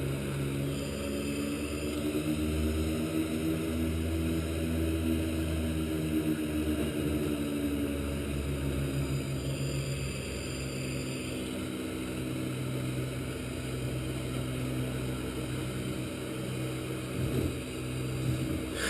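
Twin Otter turboprop engines at high power in reverse thrust within a flight simulator, a continuous droning propeller roar with a slow rise and fall in pitch, steady and fairly loud throughout.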